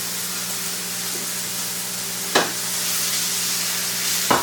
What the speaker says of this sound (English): Let me stir this around.